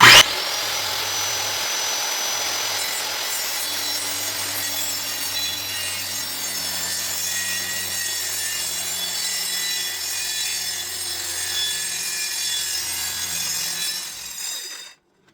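Wood being sawn, likely with a power saw, a steady loud continuous cutting whine and rasp that holds for about fourteen seconds before cutting off abruptly, with no talk over it.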